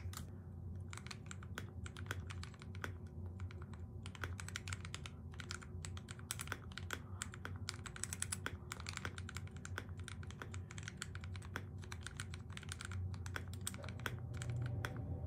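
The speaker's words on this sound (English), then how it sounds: "let's go for a sound test. I have done no mods to the actual board other than stabilizer mods." Typing on a KBD67 Lite mechanical keyboard with modded stabilizers and custom keycaps and switches: a continuous fast stream of crisp, close key clacks with occasional deeper thocks, heard alone at a moderate level.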